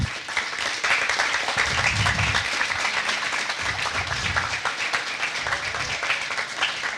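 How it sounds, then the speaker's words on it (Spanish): An audience applauds in a hall to welcome a novelist, a sustained wash of many hands clapping at moderate volume from start to finish. "Le damos la bienvenida con un fuerte aplauso."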